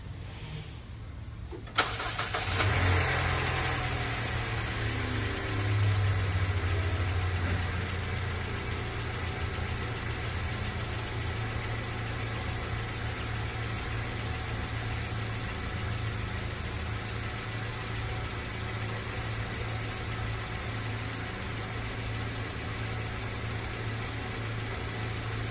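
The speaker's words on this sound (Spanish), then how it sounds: "te comenta que tiene ruido en el motor" Car engine with a reported motor noise cranks and starts with a sharp catch, then settles into a steady, fairly close mid-pitched idle with a constant hum that runs on alone.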